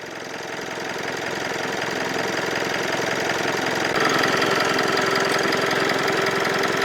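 A car engine idles steadily while cleaning product is injected into its diesel particulate filter, a constant close rumble with a faint knocking texture that grows slightly louder partway through, with no voices.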